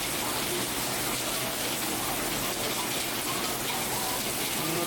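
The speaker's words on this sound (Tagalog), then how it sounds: "Ito na ang bagyo." Heavy rain pouring during Typhoon Uwan, a dense, continuous roar of water striking surfaces, steady and fairly loud throughout with no voices.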